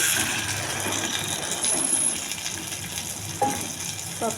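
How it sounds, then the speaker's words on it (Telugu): Hot tempering poured into cooked mashed dal with palak, giving a steady, close sizzle that fries on for several seconds, with a few small clinks near the end. "ఈ తాలింపులు వేసేయాలండి"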